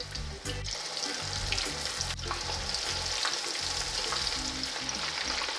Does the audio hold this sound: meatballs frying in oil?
yes